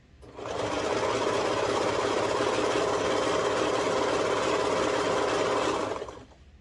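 A serger stitches tee-shirt fabric in one continuous run, a loud, fast, steady mechanical whir that starts up, holds for several seconds and winds down close by.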